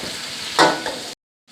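Afghani pulao with a spice bundle sizzles while being stirred in the pot, a short close burst of frying with one scraping stir before it cuts off abruptly.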